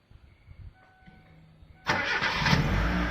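A car engine cranks and catches, then settles into a loud, steady close-up run after a quiet stretch with faint tones.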